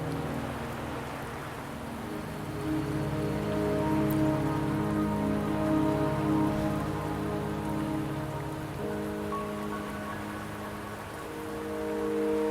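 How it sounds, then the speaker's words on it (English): Steady rain falls in a fantasy video game, heard as a continuous, even hiss of drops on surfaces with low tonal hum from the game's ambience underneath and no talking. "Don't worry, the rain won't last much longer."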